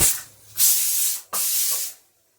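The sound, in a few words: pressure cooker releasing steam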